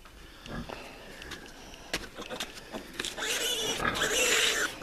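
Ten-day-old piglets on a pig farm grunt and snort in short bursts during an iron injection, with rustling and handling noise building into louder squealing toward the end.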